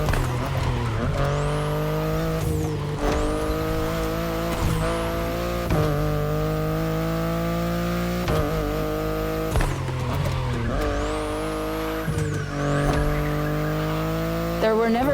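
A BMW i8 sports car drives hard in a racing game, its engine droning loud and steady through repeated gear shifts, with rising and falling revs and tires squealing through corners.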